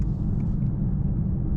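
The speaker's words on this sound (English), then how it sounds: "tires, because we have performance tires, so you can hear the tires more in terms of the noise" Cabin of a 2024 Mercedes-AMG S63 on performance tires, heard at night while driving: a low, steady road roar and tire rumble, continuous and even, with no voices.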